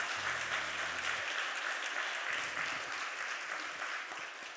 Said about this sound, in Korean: 잘했다고 우리 한번 박수 한번 할까요?